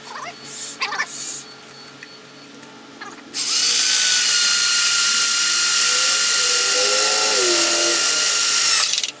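A power drill bores through cast metal with a loud, sustained high-pitched whine lasting several seconds, preceded by brief quieter noises.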